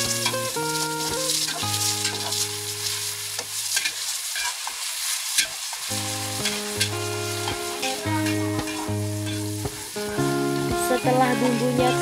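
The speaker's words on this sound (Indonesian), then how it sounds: "Lanjut aku tumis bumbunya." Spice paste for spicy-sweet cassava chips sautéing in a pan, a continuous sizzle with stirring under loud melodic background music that drops out briefly midway.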